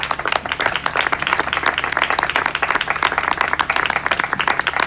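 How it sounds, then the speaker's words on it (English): A crowd applauds after a primary mayoral debate in Ogden, with dense, steady clapping filling the room throughout at close range. "let's give these guys a round of applause."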